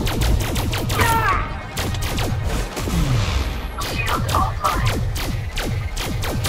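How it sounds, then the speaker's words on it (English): Gunfire and a grenade blast in the video game Elite Dangerous Odyssey, rapid loud shots cracking in a dense volley with whooshing effects throughout, no clear pause. "Throwing grenade!"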